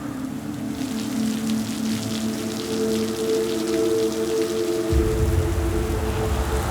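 Steady rain falls over Singapore during an unusual cold snap, a continuous soft hiss of drops with a faint low hum beneath and no voices.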